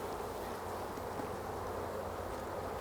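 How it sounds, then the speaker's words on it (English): Honeybees shaken off a hive frame fill the air with a dense, steady swarm buzz that holds constant and close throughout, with no talking. "Just shake the bees out to there."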